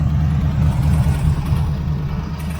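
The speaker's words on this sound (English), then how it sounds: "this one sounds like an exhaust leak still" A 1980 Camaro Z28 V8 with new headers idling under the hood, with a suspected exhaust leak and possible distributor noise: a loud, steady low rumble with slight unevenness, no talking.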